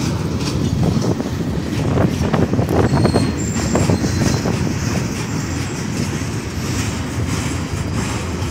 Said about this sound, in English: You hear a thump, thump, thump right over there.